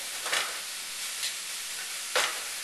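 Lo mein noodles stir-fried in a hot pan, a steady sizzle of oil with a few brief scraping bursts as the noodles are tossed, close and moderately loud with no talking.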